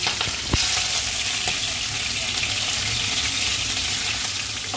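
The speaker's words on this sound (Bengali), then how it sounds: "এটা চিংড়ি মাছগুলো একটু হালকা নেড়ে ছেড়ে ভেজে নেব কালার আসা অবধি" Prawns fry in hot mustard oil with a dense, even hiss that holds steady throughout, near and fairly loud, with one brief knock early on.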